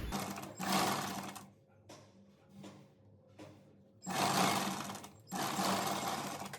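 Sewing machine stitching a pleat in a kurti, heard as loud close bursts of rapid motor whirring separated by quieter stretches of slow, uneven stitching and handling of the fabric.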